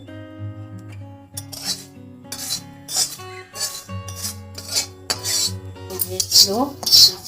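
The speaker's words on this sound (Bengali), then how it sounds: "জল দেব না শুধু গুঁড়ো করে দেবো এলাচটাতে ভালো সেন্ট হবে" Cardamom pods ground dry into powder on a stone grinding slab, giving rhythmic scraping and grating strokes, close and fairly crisp, with a few light clinks.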